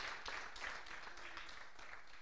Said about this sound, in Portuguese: Podes dar um aplauso a Deus nesta manhã.